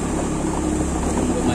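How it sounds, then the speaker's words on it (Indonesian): A motorcycle engine rumbles steadily at close range while riding a bumpy coastal road, a continuous droning putter mixed with road and wind noise, with no pauses. "Ini suara motor saya juga seperti ini"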